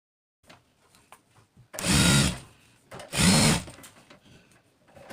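A sewing machine attaching sleeves to a readymade garment, two short whirring bursts of stitching separated by a brief pause, with faint handling noise around them.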